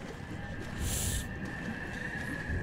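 An owl hoots faintly in the video game Fatal Frame, soft low calls set against a quiet ambient hum with a brief hiss partway through.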